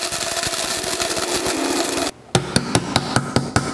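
A small blender grinding spices for chai, giving a loud continuous grinding roar for about two seconds, a brief pause, then a series of sharp, evenly spaced knocks as the blender pulses.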